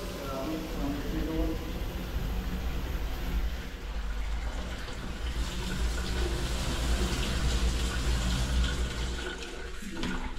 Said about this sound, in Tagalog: Ayan, may tubig na rin.